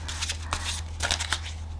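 A deck of playing cards is shuffled by hand in a short burst of quick riffling flutters, close and crisp, with brief pauses between ripples and no talking.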